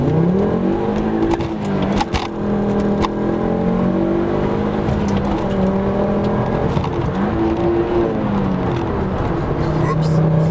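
A facelifted five-cylinder Ford Focus ST drives and accelerates, its engine note climbing and dropping through gear changes, loud and close from inside the cabin, with someone talking over it.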